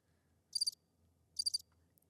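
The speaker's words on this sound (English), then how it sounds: "so that's crickets" Two short bursts of cricket chirping, played as a sound board effect, ring out a second apart over a quiet low hum.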